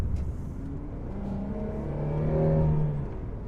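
A pickup truck engine labouring as it drives uphill, a steady droning hum that builds slightly in pitch and loudness, heard from inside the cab with no talk.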